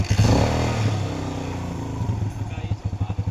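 A Kawasaki Barako motorcycle engine idling after a tensioner fix, running steadily and close with a rhythmic thumping pulse near the end, while someone talks over it.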